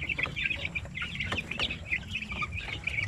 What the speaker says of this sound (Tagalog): Bali ano pa lang to, 3 weeks old na mga sisi, wala pa itong 1 month.